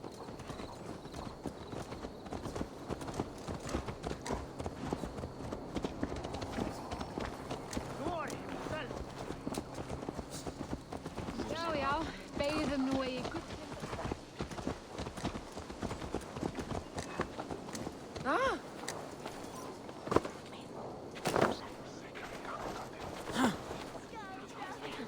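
Horse hooves clip-clopping in the Viking-era game Assassin's Creed Valhalla, a steady rhythmic trot running under continuous character dialogue and game ambience.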